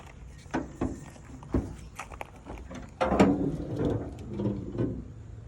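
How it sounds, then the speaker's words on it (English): A bolt being removed from the grille of an OBS Chevy truck from around 1990, with a series of close metallic clicks and ratchet taps, then a louder stretch of rattling and scraping tool work, no voices. "we're gonna have to take out this bolt"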